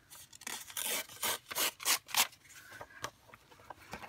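Text pages torn from a thrift-shop book for collage, a quiet series of separate ripping strokes up close, with softer paper handling afterward.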